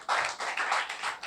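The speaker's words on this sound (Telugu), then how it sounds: "చప్పట్లు కొట్టాలి." Congregation at a church service clapping together in a steady rhythm, a dense patter of many hands close by for just over a second, with no talk over it.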